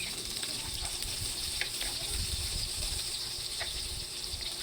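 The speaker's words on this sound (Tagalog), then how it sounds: "Maggisa na tayo ng bawang" Garlic, onion and ginger sauté in hot oil for a Filipino chicken dish, giving a steady, dense close hiss with a few faint clicks and no break throughout.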